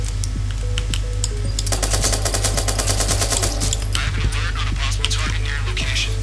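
Rapid bursts of automatic gunfire from a video game running on a PC rattle over a steady low engine-like hum, with sharp individual shots scattered between the volleys.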